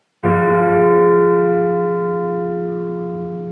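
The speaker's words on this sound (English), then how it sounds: "The bell struck 12." A single deep church bell strikes once, loud and close, its rich tone ringing out and slowly decaying.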